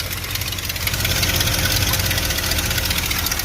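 A car engine idles steadily right after an AC Freon recharge, a loud, even, close rumble with a faint rhythmic ticking, running unbroken with no talking.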